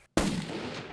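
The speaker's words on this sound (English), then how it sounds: "so I took a second shot" A single sharp rifle shot during an ibex hunt in Spain, a sudden loud crack right after a moment of silence, followed by a fading rolling echo.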